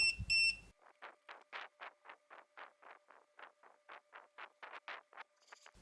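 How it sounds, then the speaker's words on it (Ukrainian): A fast, regular series of high electronic beeps from a Datouboss DN-022 power inverter's low-voltage warning, around twenty short pulses in quick succession, sounding alone and fairly close. "При 8 вольтах інвертор продовжує пищати, але напруги все-таки вже немає."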